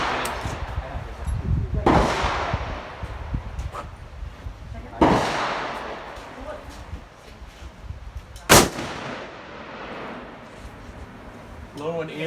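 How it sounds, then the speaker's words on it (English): Rifle shots ring out during a friendly shooting competition among four people after sighting in the rifle. There are three sharp, loud reports several seconds apart, each with a short decaying tail, and faint talk and outdoor noise between them. "After sighting in the rifle, the four of us engaged in a friendly shooting competition"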